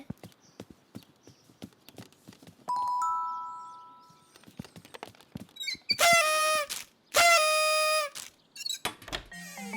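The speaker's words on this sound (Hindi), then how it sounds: "क्या तुम घंटी नहीं बजाओगे बिंग?" A doorbell chimes in the Bing cartoon, ringing as bright two-tone ding-dongs amid tapping footstep-like clip-clops and short cartoon sound effects, with no speech.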